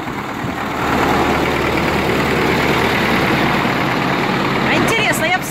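A tractor engine idles with a steady low rumble close by and fairly loud throughout, while voices talk over it.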